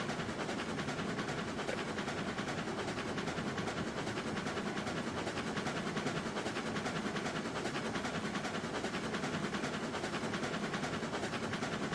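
Trains rolling along in the railroad simulation Railroads Online, a steady dense rumble with rail clatter and engine drone that holds continuously and loudly throughout, with no talking.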